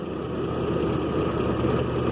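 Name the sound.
ticking from exhaust manifold leak on 2001 GMC Jimmy engine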